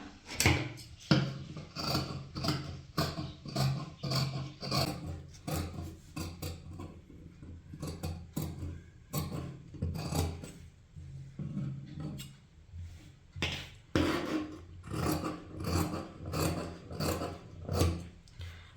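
Scissors cut through blouse sleeve fabric in a quick series of crisp snips and rustling slides, a steady close-up rhythm of cuts with brief pauses between them.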